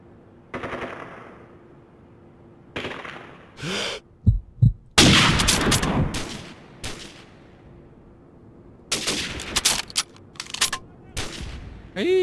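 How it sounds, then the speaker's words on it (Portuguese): Bursts of rapid gunfire from Call of Duty 4: Modern Warfare, some in quick strings and others as single loud shots, with pauses of near silence between them. "Tô ouvindo o tiro"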